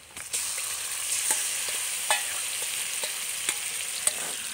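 Pieces of mutton sizzle steadily in a hot pan for a thin goat-meat curry, with sharp scrapes and clacks of a spoon stirring them at irregular intervals, close by and without talk.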